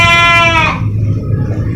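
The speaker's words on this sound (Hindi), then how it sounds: "अच्छा साफ़ सुथरा बकरा है" A goat bleats once at a livestock market, a loud wavering cry that breaks off after about half a second, leaving steady crowd murmur and low market hum behind it.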